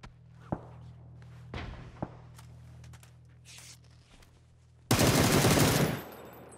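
Gunfire in the video game PUBG: a few isolated shots and footstep thumps over a steady hum, then a loud, close burst of rapid automatic fire lasting about a second.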